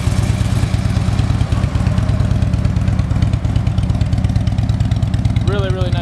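A 2012 Harley-Davidson Touring Electra Glide Ultra Classic motorcycle engine idles close by, a loud, steady, throbbing run that stays even for the whole stretch.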